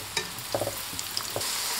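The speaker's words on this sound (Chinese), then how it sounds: "放入生坯。 用筷子翻动一下，" Egg-and-flour dough snacks deep-fry in hot oil with a dense, even sizzle, while chopsticks turn them, adding a few soft taps and clicks up close.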